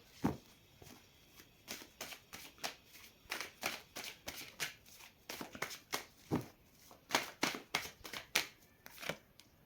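Tarot cards being shuffled in repeated quick riffles and slides, a steady rhythm of crisp papery bursts close up, with no talking.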